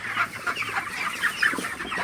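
Thirty-day-old broiler chickens in a poultry shed in the evening keep up a dense, continuous chorus of overlapping clucks and soft calls, close and steady, with no voices.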